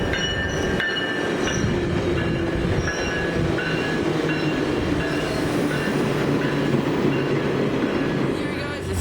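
Via Rail locomotives sit in a rail yard, among them a Canada 150 unit, while train cars roll past with continuous rumbling and clattering wheels and faint squeals, loud and close throughout.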